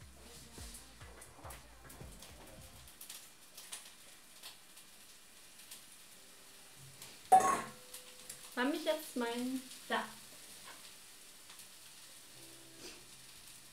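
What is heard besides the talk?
carrots being added and frying in a pan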